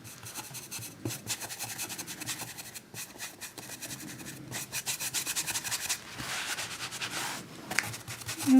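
Acrylic paint being rubbed into a canvas, a steady dry scrubbing and rasping of cloth or brush on the textured surface, continuous and close, with no voices.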